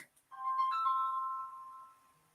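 A phone ringing with an incoming robocall, a single electronic tone that rises in quickly, holds clear and steady, then fades away with no talk over it.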